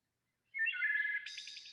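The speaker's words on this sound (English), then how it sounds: "Just going to play briefly this beautiful sound of the wood thrush" Wood thrush song played from a recording: a single clear, fluting phrase of rising and falling whistled notes ending in a higher, buzzy trill, heard alone against silence.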